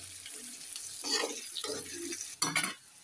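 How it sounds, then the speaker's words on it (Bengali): Raw onions fry in a pan while a spoon stirs them, with soft scraping strokes over a low sizzle and a louder clatter of utensil near the end. "পেঁয়াজটা সুন্দর করে ভেজে নিচ্ছি"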